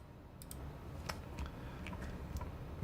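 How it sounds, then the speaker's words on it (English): Soft keyboard clicking and tapping heard close by, as keys are pressed on a computer keyboard in an irregular stream of light clicks over a steady low background hum. "I'm tempted to be using your keyboard, man, because it sounds real nice"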